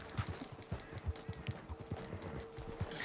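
Horse hooves clip-clop steadily in the Red Dead Redemption 2 video game, a quiet, regular walking rhythm of muffled thuds heard with no talk over it.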